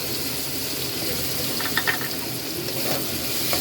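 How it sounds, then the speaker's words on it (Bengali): Egg frying in a pan over low heat gives a steady, fairly loud sizzle, broken by a few brief stirring scrapes partway through. "তো এই যে ডিম দিয়ে দিলাম এই মুহূর্তে তো ডিম দিয়ে নাড়াচাড়া করি"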